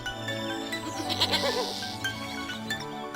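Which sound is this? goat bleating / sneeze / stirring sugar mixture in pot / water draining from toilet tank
goat bleating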